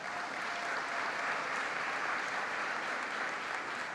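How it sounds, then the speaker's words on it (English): Audience applause for Dr. Victoria Harms, an associate teaching professor at Johns Hopkins, as she is introduced; steady, dense clapping from a crowd holds evenly throughout at moderate loudness. "Can we give a round of applause for Dr. Harms?"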